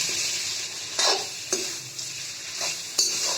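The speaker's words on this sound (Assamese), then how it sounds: "এনেকৈ ধুনীয়াকৈ লাৰি দিছোঁ" Chicken curry being stirred in a frying pan, a steady sizzle broken by several sharp scraping strokes about a second apart, close and moderately loud.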